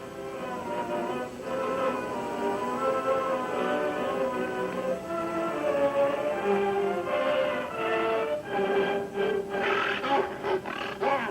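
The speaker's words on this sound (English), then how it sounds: "A tiger and a lion, snarling rivals for jungle supremacy, had been caught together in the circle." A tiger and a lion fighting, with sustained deep snarls, growls and roars rumbling close and loud throughout, rising into harsher bursts near the end.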